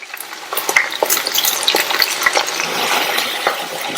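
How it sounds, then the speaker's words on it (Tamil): Cauliflower florets fry in hot oil over a medium flame, a loud steady sizzle with the scrape and clatter of a spoon stirring them around the pan. "நல்லா பெரட்டி விட்டு காலிஃபிளவர் மொறுன்னு ஃப்ரை ஆயிடுச்சு"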